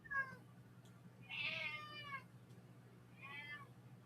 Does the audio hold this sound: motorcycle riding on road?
no